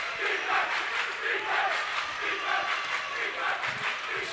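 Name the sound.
crowd cheering at a girls basketball game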